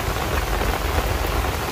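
Rain falls steadily on water and surroundings at an outdoor fishing spot, a dense, loud, unbroken hiss for a brief moment.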